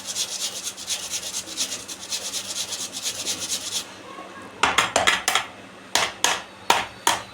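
Coconut being grated by hand in a home kitchen for soybean vada, a steady run of quick rasping scrapes followed by a few louder separate scrapes, close and with no talk.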